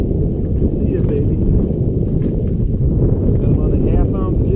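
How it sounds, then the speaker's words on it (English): Gusty wind rumbles steadily across the microphone on a lake in mid-November while bass fishing from a boat on Rainy Lake, with a voice faintly under the roar. "It's a windy day as usual."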